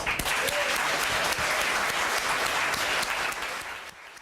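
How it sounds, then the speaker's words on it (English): Auditorium applause for students at a mock trial final, loud dense clapping that holds steady and then tapers off at the end. "we certainly need to applaud for the students who have worked so hard in this endeavor"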